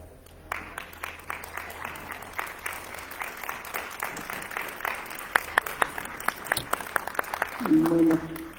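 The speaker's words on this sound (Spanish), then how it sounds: "un merecido fuerte aplauso, ¿verdad?, por estos momentos tan emotivos" Audience at a conference breaking into applause, sparse individual claps building into fuller clapping, moderately close, with a brief voice near the end.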